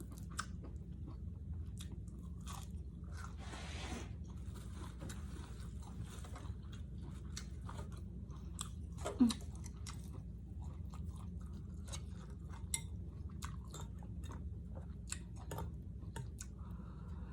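Someone chews grilled beef wrapped with bitter jaew, close and quiet. Soft, steady mouth sounds and crunches repeat over a low rumbling background, with an occasional sharper bite.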